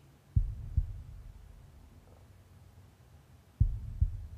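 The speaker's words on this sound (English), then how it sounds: "only hearing the sound of your own breathing and your heart beating" A heartbeat sound effect plays in a guided meditation: two pairs of soft, deep lub-dub thumps, several seconds apart, over a faint low hum.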